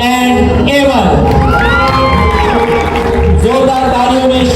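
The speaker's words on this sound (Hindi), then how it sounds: "जोरदार तालियों में शिबा एंड एमन, फाइनलिस्ट ऑफ दस्तक 4।" Audience at a school event cheering, whooping and clapping loudly, with children's high shouts and squeals rising over a dense crowd roar that stays close and full throughout.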